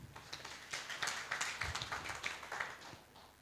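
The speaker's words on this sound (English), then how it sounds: "I think you need to clap for that." Scattered audience clapping at a cooperative society's annual general meeting, a loose run of uneven claps from a hall crowd, moderately close and fairly brief.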